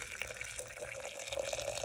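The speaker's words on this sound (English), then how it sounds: "So I add water to my Gaiwan" Hot water trickles quietly into a gaiwan as pu-erh tea is brewed, a faint, brief steady pour with light liquid gurgle.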